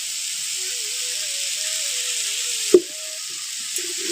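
Vegetable curry sizzles and fries in a pan with a steady, close hiss, broken by a single sharp clack of a utensil partway through.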